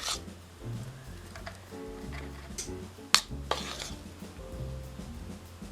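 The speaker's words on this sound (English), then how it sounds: "We're going to spoon the batter into each." Lemon pound cake batter is spooned into small greased and floured mini loaf pans, making soft scraping and tapping sounds with one sharp clink against the tin, over a low steady background hum.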